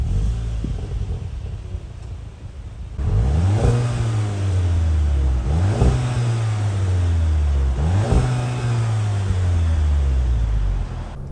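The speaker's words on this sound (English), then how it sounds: "the exhaust sound, at least at a standstill, where there's a soft limiter and it holds the revs" A 2021 VW GTI idling, then revved three times at standstill; each rev climbs and holds briefly under 4,000 rpm against a soft limiter before dropping back, loud and close exhaust.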